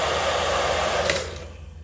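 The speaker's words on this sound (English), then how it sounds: "let's turn on the hair dryer" A hair dryer runs off a Bluetti AC200 Max portable power station, a steady broadband blowing roar that cuts out abruptly near the end when the load trips the unit, leaving a faint hum.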